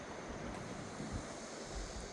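Sea waves wash steadily onto the shore at Mangyangjeong in Uljin, a broad continuous surf roar mixed with wind buffeting the microphone, with no voices.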